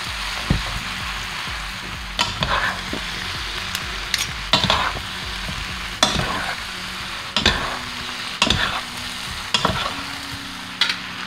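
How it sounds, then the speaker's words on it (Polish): Pork liver frying in a pan while being stirred, a continuous hissing sizzle under repeated clinking and scraping strokes of a utensil against the pan at irregular intervals. "Teraz dokładam wątróbkę. Muszę to wszystko wymieszać."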